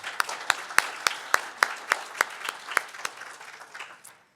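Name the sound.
audience applause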